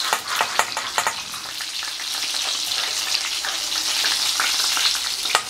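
Nems frying in oil in a pan, a loud, dense, continuous sizzle with crackling pops that are sharper at the start, and no voices.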